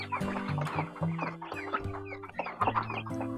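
Several chickens cluck busily and overlap one another, close by and steady, with no voices.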